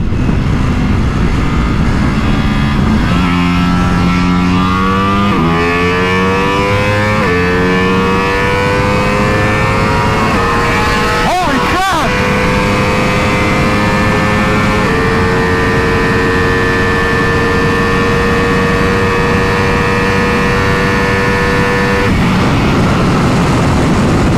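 A 2024 Ducati Multistrada V4 RS is ridden hard: a loud engine note climbs in pitch again and again through the gear changes and then holds a high steady whine, all over constant wind roar.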